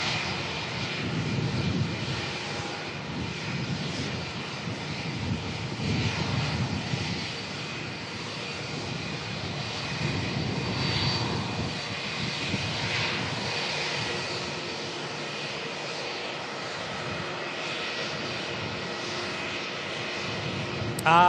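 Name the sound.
Jetstar jet airliner engine noise at Melbourne airport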